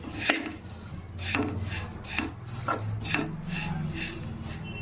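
Dry thick poha flakes scraped and tossed in a pan over a low flame, a steady rasping, rustling scrape with repeated spatula strokes and light metallic knocks, close and continuous, no voices.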